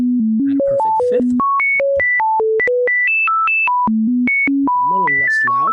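Computer-synthesized tones with an added perfect fifth step quickly through a bright melodic pattern of steady sine-like pitches, loud and clear, with faint speech briefly underneath.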